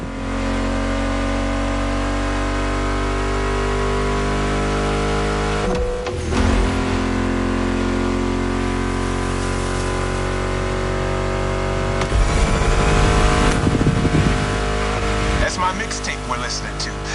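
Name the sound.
car engines revving in video game The Crew Motorfest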